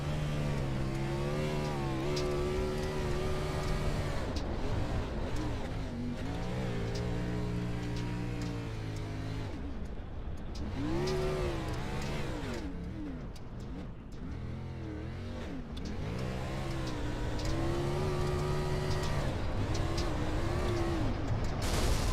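A race car engine in the Iron Thunder Racing League video game at Daytona International Speedway, revving hard and held near the limit, rising and falling in pitch as it is pushed, with a brief dip midway.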